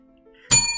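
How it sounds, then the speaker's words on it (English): A single big bell strikes after near-silence, a loud bright clang whose metallic ring lingers and slowly fades. "Can I get 5 big bells?"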